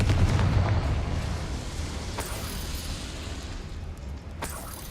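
A Confringo fire spell explodes in Hogwarts Legacy, a deep rumbling blast that starts loud and decays into a sustained low roar, with a couple of sharp crackling bursts later on.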